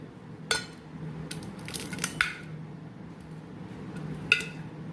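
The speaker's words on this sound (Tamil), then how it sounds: "ஒரு பாத்திரம் வச்சு லைட்டாக நசுக்கணுன்னா இந்த மாதிரி அதுவாக தானாக வெடித்து இந்த மாதிரி நசுங்கிடும்." Turkey berries (sundakkai) being lightly crushed under a vessel, giving a few faint, sharp cracks and clicks spaced out over quiet background noise.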